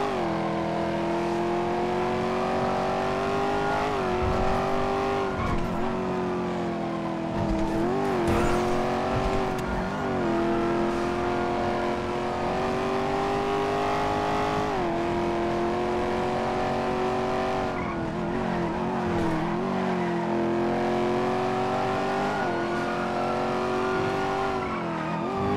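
A car in NoPixel GTA roleplay drives continuously, its engine revving up and down in rising and falling sweeps with brief tire squeals, loud and close for the whole stretch.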